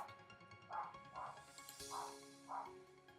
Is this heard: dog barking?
yes